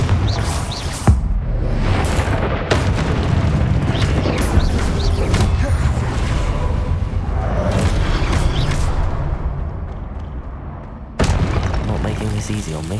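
Booming Confringo fire-spell explosions and crackling magic effects in the video game Hogwarts Legacy, loud and busy with sharp bursts, under a player's speech.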